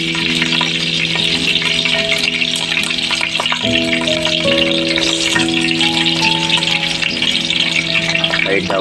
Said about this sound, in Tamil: நல்லா எண்ணெய் சூடாகிடுச்சு. நம்ம கருவேப்பிலையை போடுறோம். அப்புறம் வெங்காயம்